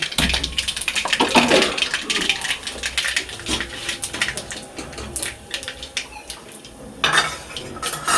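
Spices fry in a hot wok while a metal spatula scrapes and clatters against it, irregular stirring knocks over a light sizzle, close up.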